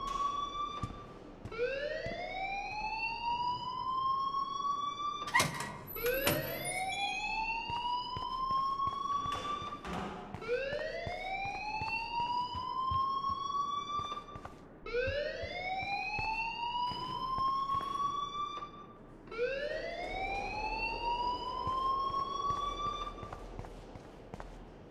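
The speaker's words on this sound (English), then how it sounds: "please turn off that alarm since that's your job" An alarm in the video game Life is Strange wails on and on as a repeating rising siren sweep, each rise lasting about four seconds, loud and steady throughout with faint bumps beneath.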